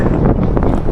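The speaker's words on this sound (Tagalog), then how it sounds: "Ang lamig, lakas ng hangin." Strong, cold wind buffets the microphone during an electric bike ride in a constant low roar, loud and rumbling with no voices heard.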